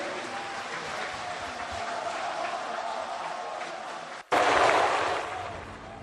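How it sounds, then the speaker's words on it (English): A warm round of applause for President Xi Jinping at the APEC Summit, a broad crowd wash under which a voice speaks, swelling louder near the end after a brief drop. "Let's once again express heartfelt thanks to President Xi with a warm round of applause."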